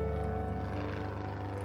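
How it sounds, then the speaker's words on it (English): Propeller airplane engine in a cartoon, a steady low droning hum holding throughout, continuous and fairly close with no talk. "That's not a jet. It's a propeller airplane. I can tell from the sound of its engine."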